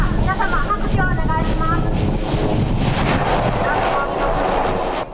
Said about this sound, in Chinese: 在海面停妥后，螺旋桨一个加速，飞机瞬间又从海面起飞。